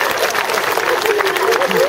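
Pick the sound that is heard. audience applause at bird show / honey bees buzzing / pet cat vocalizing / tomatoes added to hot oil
audience applause at bird show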